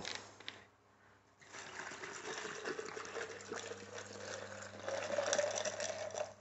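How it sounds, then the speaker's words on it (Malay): Soda is poured over ice cubes into a container, a continuous fizzing, splashing gush close by that swells toward the end, with no talking. "So, mak akan tuangkan mak punya soda tadi sikit."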